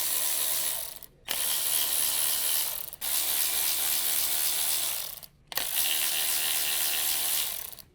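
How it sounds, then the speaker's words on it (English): Electric impact wrench with a 10mm deep socket backing out ignition coil screws on a 2010 Honda Civic, three loud sustained rattling bursts separated by brief pauses, close up with no talk. "Use the 10mm deep socket with the electric impact wrench to remove the screws securing the"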